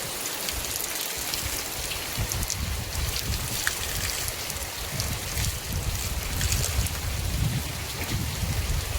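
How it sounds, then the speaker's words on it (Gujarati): Steady rainfall pattering on surfaces nearby, a constant dense hiss with low rumbling underneath and no voices. "ટાઢો ટાઢો વરસાદ છે, મજા આવે છે."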